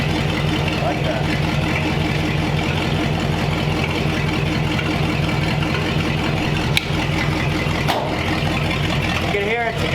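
A 1929 Ford Roadster pickup engine idles steadily, its exhaust muffled by baffles built from scrap. The rumble is close and even throughout, with some talk over it.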